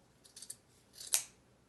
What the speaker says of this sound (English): Then of course you're going to cut it.